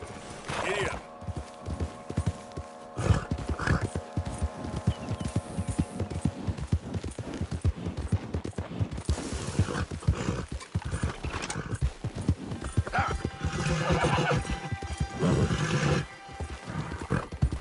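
Horse galloping and neighing in the Red Dead Redemption 2 video game: rapid steady hoofbeats clip-clop close by, with whinnies breaking through, under a bed of game sound and voices.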